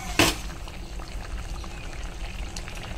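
Bata fish drops into a potato and mustard-paste curry simmering in a pot, a single soft splash followed by quiet, steady bubbling.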